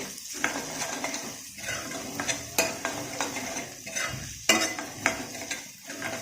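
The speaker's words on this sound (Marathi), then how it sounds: "हे सर्व साहित्य तेलामध्ये छान भाजून झालं" Byadgi chilli powder, goda masala and other spices roasting in hot oil in a pan for dal, with a steady soft sizzle broken by several sharp clicks of a spoon stirring against the pan.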